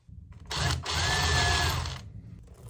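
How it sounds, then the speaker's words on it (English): A power drill bores a pilot hole into wood, one sustained whirring burst of about a second and a half with a steady motor whine, close and loud, starting and stopping abruptly. "I'm gonna go ahead and pre-drill a hole the size of that so that this insets into the wood a little bit."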